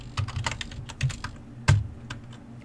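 Rapid clicking keystrokes on a computer keyboard while entering a search for a grid shape in Tinkercad, irregular taps with a few sharper, louder strikes, close and alone without any voices.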